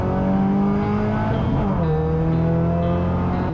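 A Peugeot 208 Racing Cup race car is driven hard on track, its engine loud and steady with rising and falling revs as it brakes into corners and gets back on the power early, with no talk over it.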